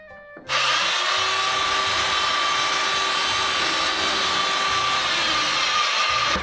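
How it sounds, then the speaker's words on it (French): A rented tile-breaking jackhammer kicks in abruptly and runs as a loud, steady, high-pitched mechanical whine and buzz during home renovation, close and continuous with no talk over it. "Le marteau-piqueur ne marteau-pique plus."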